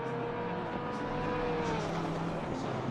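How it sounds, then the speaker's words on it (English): BMW race car in a PC racing game series round at Suzuka, its engine droning steadily with sustained tonal whine and shifting pitch throughout, loud and continuous, with a faint voice underneath. "I don't know what it is about that BMW sound that just makes it"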